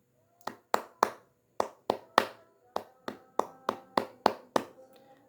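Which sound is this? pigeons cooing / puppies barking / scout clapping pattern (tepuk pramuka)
scout clapping pattern (tepuk pramuka)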